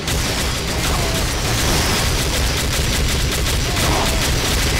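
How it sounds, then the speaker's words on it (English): Sentry guns fire in Team Fortress 2 played within Garry's Mod during an engineers-versus-giant-soldiers battle, a dense, continuous barrage of rapid gunfire and explosions that stays loud throughout. "Sentries are starting to fire."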